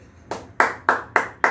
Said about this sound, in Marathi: आपण सर्वजण तिचं टाळ्या वाजून कौतुक करूया, अभिनंदन करूया